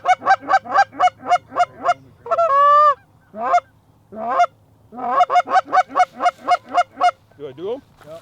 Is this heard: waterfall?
no